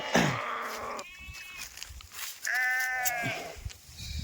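Two sheep bleats, close and loud, a brief one early followed by a longer wavering bleat, with quieter ambient noise between them.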